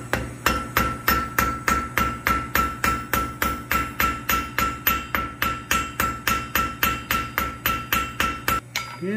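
A cross peen hammer strikes hot steel on an anvil in a steady, rapid series of about thirty ringing blows, loud and close, while forging a one-piece sea turtle.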